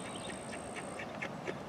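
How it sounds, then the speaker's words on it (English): A female duck gives several soft quacks spaced through the moment, faint and some distance away, over steady outdoor background noise. "That's a female duck."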